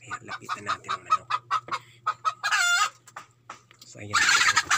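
A domestic chicken by its nest clucks in a quick run of short notes, then gives a squawk, heard up close with a faint hum behind it.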